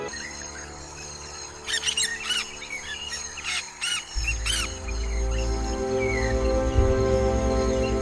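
A young hoatzin, about 20 days old, gives a series of sharp, scratchy squawking calls in rapid bursts, fairly close, before a low rumbling background swells and continues beneath scattered faint chirps.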